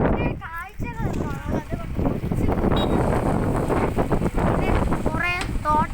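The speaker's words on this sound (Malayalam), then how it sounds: "ഭയങ്കര കാറ്റാണ്" Strong wind buffets hard near a hillside viewpoint with plantations, a loud continuous rushing roar across the microphone, with voices talking over it in places.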